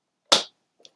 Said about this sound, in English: I will just come in here, set it in my trimmer,